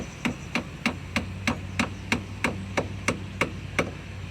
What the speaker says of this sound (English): he's just hammering in one tack that he has